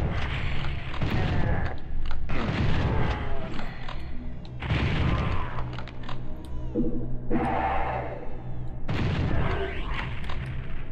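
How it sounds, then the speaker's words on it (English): Super shotgun blasts in Doom on PS1, several heavy booming shots in bursts with reverberant tails, loud and up close against a dense game soundscape. "Oh, super shotgun."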